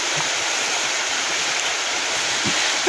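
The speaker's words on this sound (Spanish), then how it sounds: "Vean, ve cómo chorrea." Water pours steadily through a muddy outdoor spot, a continuous broadband rush like a small stream, loud and close, with a faint knock near the end.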